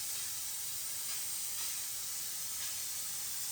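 Steam cleaner blasting steam at 350 Fahrenheit over bathroom or kitchen tile and grout: a loud, continuous high hiss with slight pulsing surges, no voices.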